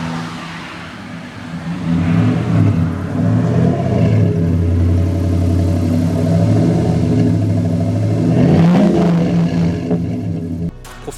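From the rear of a Chevrolet SSR roadster, the V8 exhaust holds a deep, steady burble at close range, then rises in a quick rev before settling again. There is no speech.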